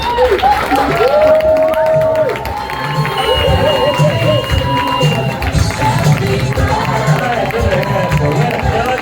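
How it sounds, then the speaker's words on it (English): Audience at a comedy show clapping and cheering in a sustained, loud wash of applause, with a voice talking over it. "Keep the claps going"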